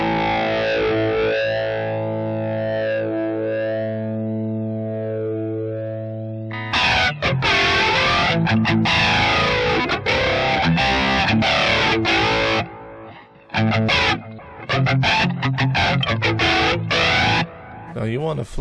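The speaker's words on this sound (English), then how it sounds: "Let's try flanging." Crunchy electric guitar through a flanger effect on a BOSS Tone Studio crunch tone, first sustained ringing chords with a sweeping shimmer, then loud distorted strummed chords and choppy stabs with brief gaps.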